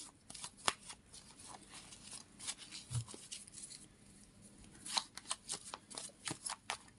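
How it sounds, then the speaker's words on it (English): Tarot cards are shuffled steadily, giving a quiet continuous papery patter of slides and soft snaps over a faint background, with no speech. "I'm just going to shuffle the cards."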